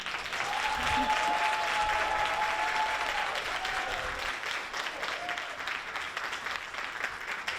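An audience applauds after a student speech at a youth oratorical contest, sustained, even clapping from many hands, moderately distant, with a brief tone and voices faintly underneath early on.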